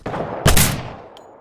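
A single loud burst from an FG42 rifle in Return to Castle Wolfenstein, a sharp crack with a short echoing tail over a low background hum, close and without talk.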